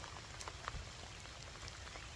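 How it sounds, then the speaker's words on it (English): Rain falling at a lake while tench and bream fishing, a faint steady patter with scattered drops landing on nearby surfaces. "they let the rain fall on you"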